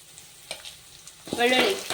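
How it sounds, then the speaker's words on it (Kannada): Crushed garlic hits hot oil for a chitranna rice dish, starting as soft scattered crackles and swelling into a loud, dense sizzle with stirring for the last stretch. "ಗೋಲ್ಡನ್ ಕಲರ್ ಬರೋವರೆಗೂ ಫ್ರೈ ಆಗಲಿ"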